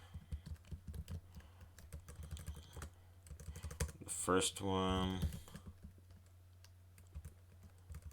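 Typing on a computer keyboard gives quick, irregular key clicks in short bursts, close and clear, with a person speaking briefly partway through.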